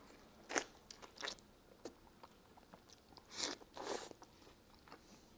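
Biting into and chewing fresh papaya: soft, moist crunches and wet chewing clicks come in irregular bursts, close and quiet, with no talking.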